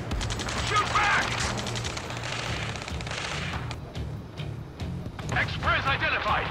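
Sustained rapid gunfire and explosions from the video game Ace Combat 7: Skies Unknown, dense loud bursts with radio voices speaking over the battle.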